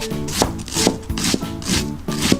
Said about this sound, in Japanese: 僕ねちょっとみじん切りやり方ちょっと特殊なんですけど、こんな感じでねちょっとずつやっていくんですよ